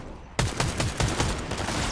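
A loud burst of automatic gunfire in Fortnite, rapid evenly spaced shots starting abruptly after a brief quiet moment and continuing steadily to the end.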